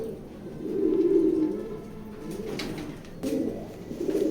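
Racing pigeons in a loft coo in low, throaty swells that rise and fade repeatedly, a steady close chorus with no talking.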